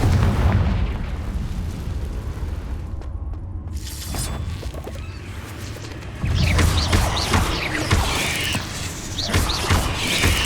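Confringo blasting spell in the Hogwarts Legacy video game: rumbling explosive bursts and crackling impacts, a quieter stretch followed by a louder barrage of blasts and pops in the second half.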